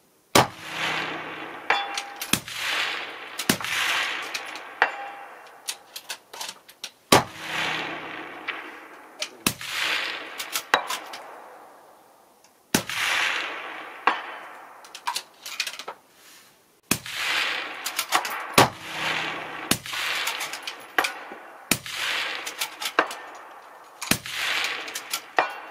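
Rifle shots at 300 meters during an accuracy test of a Falcon Optics Endura S10i scope, a dozen or so sharp loud cracks at irregular intervals, each followed by a short ringing decay outdoors.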